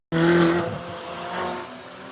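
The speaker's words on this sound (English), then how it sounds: "Another Ferrari. 458, 488, 458." A Ferrari 458 or 488 roars past close by, a loud sudden engine blast that peaks immediately and then fades with a second swell as it moves away.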